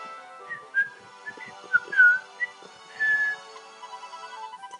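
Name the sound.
character whistling in Inazuma Eleven 3 video game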